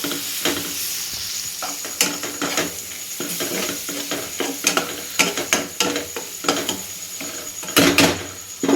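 Boiled-egg bhurji with mustard seeds and chilli being stirred in a hot pan: a continuous loud sizzle broken by frequent scraping and clacking strokes of a spoon against the pan.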